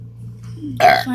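A single short, small burp rises out of a quiet moment near the end, close and fairly loud.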